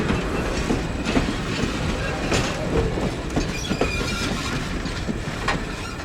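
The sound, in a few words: heritage passenger train on the Strasburg Railroad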